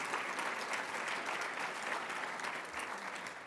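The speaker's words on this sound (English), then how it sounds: "Let's give a round of applause to our sponsors and welcome the students." A room full of audience members at an energy-planning event claps in sustained, even applause for sponsors and students, a dense steady patter with no voices standing out.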